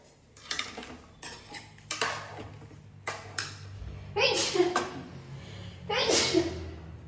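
Two loud, abrupt sneezes burst out near the mic in a home kitchen while corn soup is being cooked, with scattered clinks of pots and cutlery and some talking around them.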